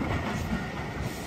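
A Dinosaur Valley roller coaster train runs at Wicksteed Park, producing a steady rolling rumble with a faint clatter for a brief moment, with no voices.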